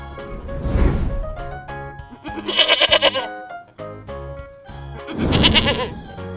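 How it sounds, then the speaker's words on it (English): A goat bleats in a few wavering, nasal cries, set against light background music with tinkling accents. "Goat."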